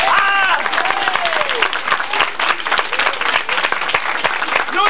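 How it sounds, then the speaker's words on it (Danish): Loud audience applause greeting the child magician Jakob at a Danish kindergarten show, many hands clapping steadily with cheering voices and shouts mixed in. "så klapper alle publikummerne dig"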